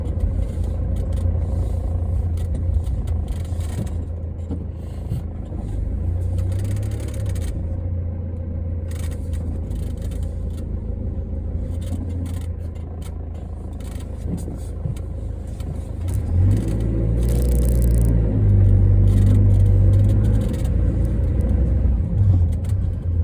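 A car manoeuvring slowly into a parking space in front of a shop, its engine a steady low rumble with a louder push of revs near the end, with no talk.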